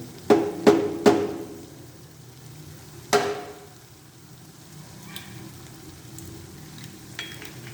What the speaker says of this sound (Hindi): मैंने 5 अंडे लिए हैं और इसको मैं एक एक तोड़ के डाल दूँगी।